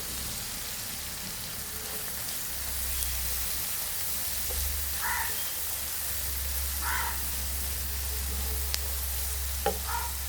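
Ingredients sauté in a pan with salt and turmeric, giving a constant crackling sizzle with occasional soft stirring scrapes and light taps.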